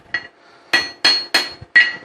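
Five loud, close hammer blows ring out on steel while forging slot jaw tongs, one lighter strike followed by four heavier ones at a steady, unhurried rhythm, each with a bright metallic clang, with no voices.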